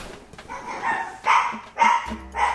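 A dog barks several times in quick, uneven succession, close and fairly loud, each bark short and sharp with brief gaps between.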